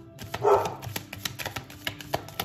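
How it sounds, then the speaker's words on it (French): A pet dog barks and yips indoors at home, a burst of loud close barks near the start followed by smaller scattered yaps and noises. "il y a mon chien qui va vous parler un petit peu"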